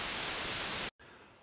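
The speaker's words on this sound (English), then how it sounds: "and instead you go for a white noise mix" Dense broadband white noise fills the mix at full level as a mixing reference, then cuts off abruptly into near silence before a quieter hiss resumes.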